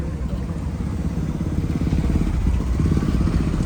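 A tuk-tuk engine putters steadily while riding through Old Town Antigua, Guatemala, a close, continuous rattling drone that grows slightly louder toward the end, with no voices over it.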